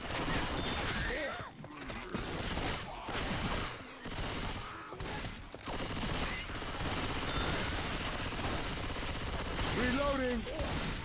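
Machine gun fire in a competitive online shooter match, rapid bursts of gunfire repeating across the scene amid game effects, with a voice talking over it.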